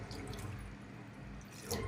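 A small amount of water poured into a pan of prawn thokku as it cooks, giving a steady soft splashing trickle for about two seconds with a brief louder splash at the end, no talking.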